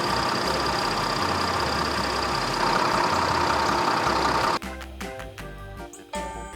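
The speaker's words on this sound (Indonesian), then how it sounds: "Wow, ini adalah bus" A bus engine idling with a loud, steady low rumble that cuts off abruptly, followed by a few sparse clunks and knocks.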